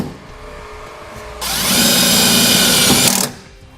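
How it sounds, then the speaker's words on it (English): A power driver fitted with a 1/4 inch socket drives self-tapping screws while a trailer brake controller wiring kit is installed on a 2013 Chevrolet, giving one steady, loud whirring burst of about two seconds between quieter stretches. "We're going to connect this using the self-tapping screws that come in the kit and a 1/4 inch socket."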